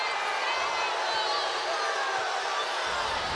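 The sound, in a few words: Indiana crowd reacting to an offensive foul call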